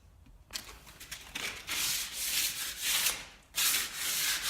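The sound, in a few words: sanding and scratching pre-painted timber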